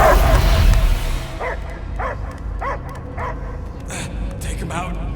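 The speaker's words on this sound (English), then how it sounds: "I hear only barking" A dog in the Guardians of the Galaxy video game giving a run of rhythmic barks and yips, about eight evenly spaced calls after a rumbling opening, mid-distance and moderately loud over an ambient background.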